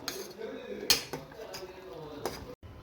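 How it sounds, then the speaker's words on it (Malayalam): Noodles tossed with masala in a pan, a utensil clinking and scraping against the metal in a few sharp knocks over a low, steady background at close range. "നമുക്ക് ഇതൊന്ന് മസാലയ്ക്കൊന്ന് ഇളക്കി ഇതായിട്ട് കൊടുക്കാം."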